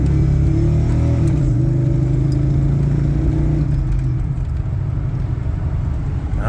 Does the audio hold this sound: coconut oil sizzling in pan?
no